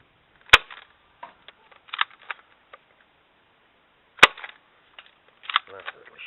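Nerf Ultra Mav blaster fired outdoors, two sharp close cracks a few seconds apart, each followed by faint rattling and clicking handling noises.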